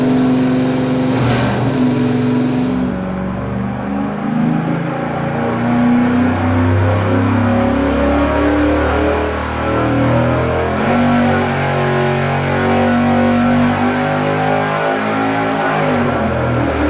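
A stock 305 V8 on a dyno with a 150-horsepower nitrous shot, roaring at full load: a loud, continuous, close engine note rising and holding for seventeen seconds, with gear-like harmonic sweeps and no talking.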